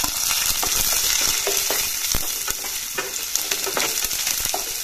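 Cloves, cardamom, garlic and chillies fry in a pan with a dense, continuous sizzle, broken by quick clicks and scrapes of stirring close by.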